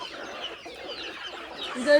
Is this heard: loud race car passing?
no